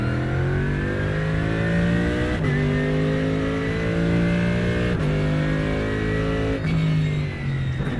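A loud race car engine from inside the cockpit in iRacing, droning steadily through upshifts marked by quick pitch drops at regular intervals, with no voice over it.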